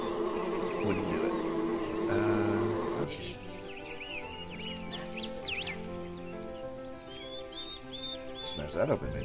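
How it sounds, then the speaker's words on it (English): Game bees from the game Waves of Time hum in a steady, loud drone across the clip, with a voice speaking briefly over the buzzing. "Because there's bees. Can't get past the bees."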